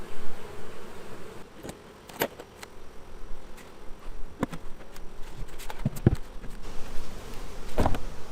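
Honey bees buzz around hives during a summer inspection, their hum steady in the background with close individual bees zipping past now and then, plus light knocks and rustling from handling the hive.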